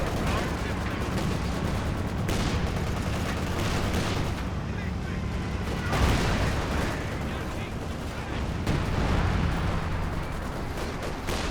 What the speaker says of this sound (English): Yeah, Panzer firing away